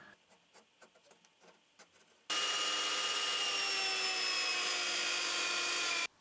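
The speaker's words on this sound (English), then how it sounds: "This is easily done on the belt sander." Belt sander grinding down wooden support blocks for a router table fence, a loud continuous abrasive roar that starts abruptly after a few quiet knocks and runs steadily to the end.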